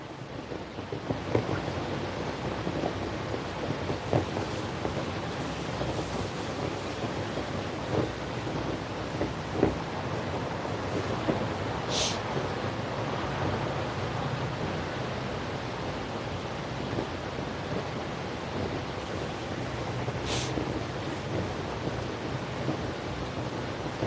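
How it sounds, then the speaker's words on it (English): A creek flows beside a camping spot, giving a steady, even rush of water that holds unchanged throughout with no voices over it. "Oh, the sound of that river is so nice, or that creek is so nice."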